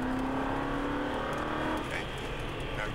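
Aston Martin V8 Vantage accelerating on a race track, a loud steady engine drone with a rising tone that holds close and continuous throughout, then eases slightly near the end.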